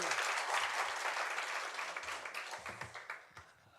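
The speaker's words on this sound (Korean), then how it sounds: "우리 하나님께 영광의 박수 올려드리겠습니다." Church congregation applauding during a Sunday service, a steady crowd of clapping hands that thins toward the end, with a few scattered claps and faint voices underneath.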